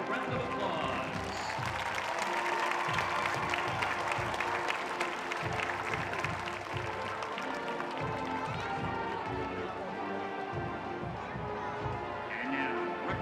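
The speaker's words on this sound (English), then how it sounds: "Let's give them a round of applause." A high school crowd applauds the freshman, sophomore and junior class representatives, a sustained, dense wash of clapping with voices and cheering mixed in throughout.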